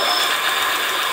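An electric bike's hub motor spins the lifted rear wheel, giving a loud, continuous buzzing whir with a rough mechanical rattle, steady and close throughout.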